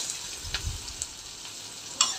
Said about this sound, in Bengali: পেঁয়াজটা আমি একটু হালকা করে ভেজে নিব,